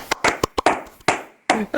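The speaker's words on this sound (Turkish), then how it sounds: "Alkışa." Several sharp hand claps in an uneven burst, close and loud, some spaced apart and others quick together, with a person laughing nearby.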